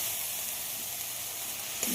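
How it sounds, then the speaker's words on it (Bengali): Lentils and onion sizzling in a pan for a lentil and yardlong bean dish, a steady close crackling hiss that runs unbroken at an even level, with one small clink near the end. "পেঁয়াজের সঙ্গে ডালটাকে একটু ভেজে নেব"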